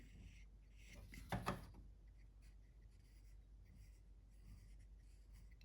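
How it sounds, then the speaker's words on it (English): A pencil scratches lines onto the head of a carved wooden redhead duck decoy, producing a soft, close, quiet rasp with one louder burst of strokes early on, then faint intermittent scratching. "just gonna pencil that in."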